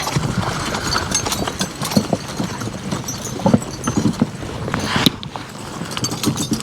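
Draft horses Duke and Earl walking across a damp field, soft hoof thuds and clopping in an uneven plodding rhythm, close and moderately loud over outdoor rustle, with a brief sharper knock near the end.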